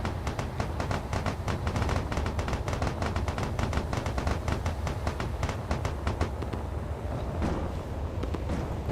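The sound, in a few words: field mortars firing in Space Engineers video game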